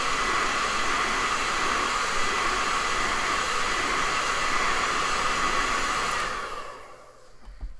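A hair dryer blows hot air over wet acrylic paint on an eagle painting, a steady loud whooshing hiss that runs unbroken for several seconds before it switches off and winds down.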